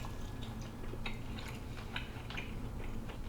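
Someone bites into a crispy chicken wing cooked in a T-Fal ActiFry, making a run of close, sharp crunches and chewing clicks over a low background hum.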